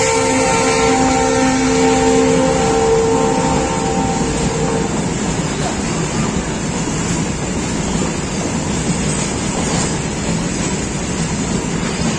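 A passenger train rumbles steadily into a railway station, heard from on board as a continuous loud rolling roar with a few tonal squeals early on.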